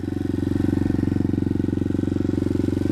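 An Apollo DB-125 dirt bike idles after a kick start, its small single-cylinder engine running with a fast, even, close-up putter throughout.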